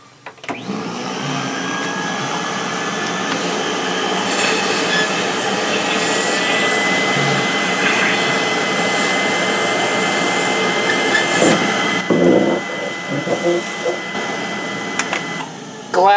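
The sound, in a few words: electric fan running in background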